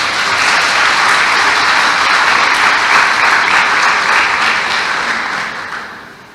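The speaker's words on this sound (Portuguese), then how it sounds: "Você pode aplaudir a palavra de Deus?" A church congregation claps together after a sermon reading, a dense, steady burst of applause that holds at full strength for several seconds before tapering slightly at the end.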